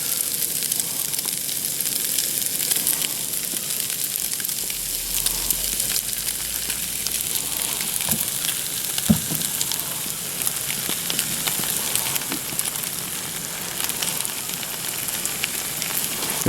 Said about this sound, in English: after you see that your hamburger is thoroughly browned, you start adding your barbecue sauce